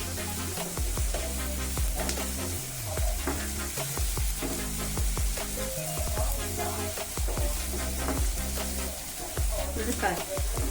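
Crushed garlic and raw ginger fry in a pan, a dense continuous sizzle broken by frequent scraping stirs of a spoon, close and loud with no voice.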